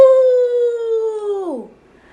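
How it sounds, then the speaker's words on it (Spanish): A wolf howls once, a single long sustained tone held steady and close, then bending downward and fading out at the end. "Y era el sonido de un lobo."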